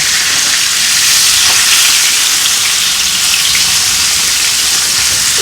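Trout fries in a pan over medium heat, giving a loud, dense, steady sizzle close up that holds unchanged throughout with no voices.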